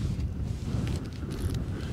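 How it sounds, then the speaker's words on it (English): Cold wind blowing outdoors at a wild campsite, a steady buffeting rush against the microphone with low rumble and no speech. "Wind's a bit cold"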